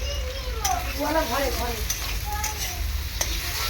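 Snakehead fish stir-fried in a pan, a steady close sizzle and frying crackle with a few scraping stirs of a utensil, no talk.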